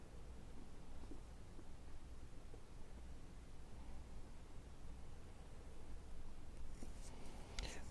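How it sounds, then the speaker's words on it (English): A pen scratches across paper while Korean Hangul letters are written, a soft continuous rustle close up with small strokes and a brief louder scrape near the end. "This is a, and let's write o."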